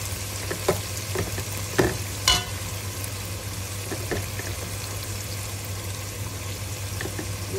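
Green vegetables sauté in a pan with a steady close sizzle and crackle, broken by a few sharp clicks and stirring scrapes, a low hum running beneath throughout.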